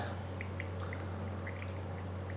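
Pour-over coffee brewing with a Paragon dripper, faint intermittent drips falling into the brew over a steady low hum.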